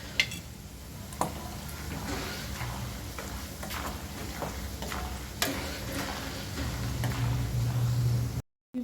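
Spices and roasted gram fry in hot oil, a soft continuous sizzle broken by frequent light clicks and scrapes as the pan is stirred, close up and fairly quiet, with no talk.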